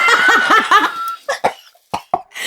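A person coughing after smelling a vile smoothie: a few quick laugh-like bursts, then several sharp separate coughs with short gaps between them, close and fairly loud.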